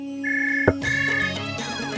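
A mobile phone rings with an electronic melody of bright sustained tones that shift pitch in a short repeating pattern, loud and close, with no talking over it.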